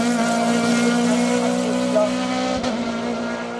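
A Norma M20 FC 2-litre CN prototype race car at a French hill climb, its engine droning steadily with a strong tonal whine, close and loud, then easing slightly near the end.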